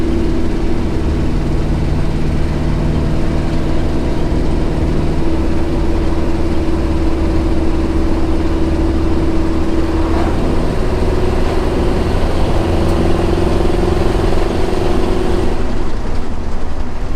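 A truck engine fitted with a rebuilt Holley carburetor drones steadily while driving, a constant low rumble with a sustained hum heard from inside the cab, with no talking.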